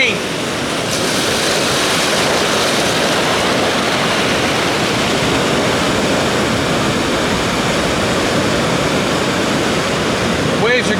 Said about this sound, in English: Waves are getting bigger.